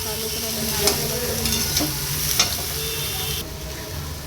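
A spice mixture sizzles steadily while being stirred in a pan, with a few light scraping clicks of the spoon over the frying hiss, close and with no talk.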